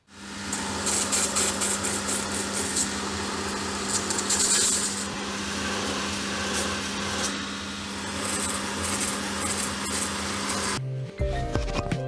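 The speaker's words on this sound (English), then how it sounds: "we're just going to head over to the belt sander to give us a head start" A belt sander grinds the heel off a Red Wing boot in a shoe repair shop, a steady loud whirring drone with rubbing scrapes that runs continuously before stopping near the end.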